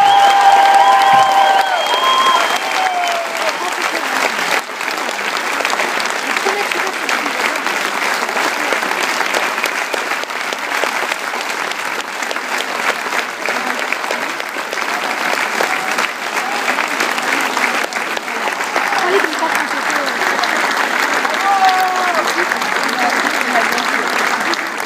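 A packed cinema audience at a film premiere bursts into loud, sustained applause lasting over twenty seconds, a steady dense wall of clapping with occasional cheers and voices mixed in.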